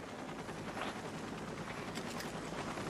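A rescue helicopter hovers during a flash flood swift-water rescue, its rotor and engine producing a steady, loud broadband roar that fills the whole stretch without pause.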